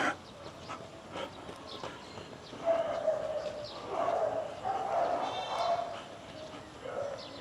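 Dogs bark in the distance, a few scattered yips and woofs rising over quiet outdoor ambience in a residential subdivision in Quezon City, Philippines.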